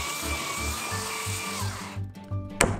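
A Freewood router bit cuts into a wooden stair stringer, giving a loud, steady, whining machine roar that pulses rhythmically as the cut progresses, then drops off and ends with a sharp knock.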